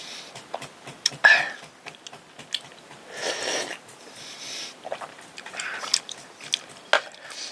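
Close-up mouth sounds of someone eating ramen and its broth, with wet slurps, bites and chewing in an uneven rhythm. The sounds are loud and intimate, and nobody speaks.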